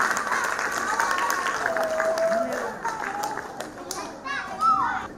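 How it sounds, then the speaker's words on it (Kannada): An audience at a first-anniversary event for a charitable foundation applauds to welcome guests, with scattered clapping mixed with children's voices, chatter and whistle-like calls from the crowd. "ಎಲ್ಲರೂ ಚಪ್ಪಾಳೆ ಮೂಲಕ ಅತಿಥಿಗಳನ್ನು ಸ್ವಾಗತಿಸಬೇಕೆಂದು ವಿನಂತಿ."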